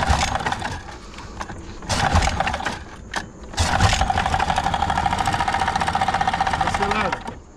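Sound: mini boat motor starting and running

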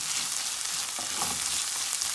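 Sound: tomato paste frying and being stirred in a pot

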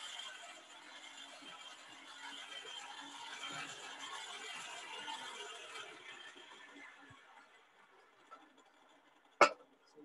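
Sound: blacksmith's forge fan running

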